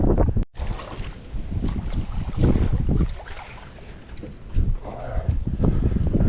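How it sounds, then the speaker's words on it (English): Gusty wind blows across an open lake during bass fishing, buffeting the microphone in strong, uneven roaring surges, with a brief knock near the start and no talking. "Man, the wind is blowing."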